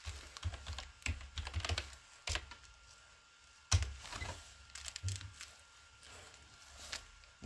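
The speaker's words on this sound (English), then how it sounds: "Write line command, press enter." Computer keys clack in quick irregular bursts with short pauses as a line command is typed into AutoCAD, the close, crisp taps standing alone without talk.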